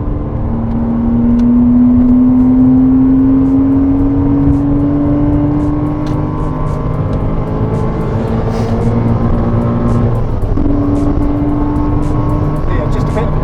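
A McLaren 620R closes in at speed on a Goodwood track, its engine a loud, sustained roar with a steadily rising tone, heard from inside another car while a driver talks over it.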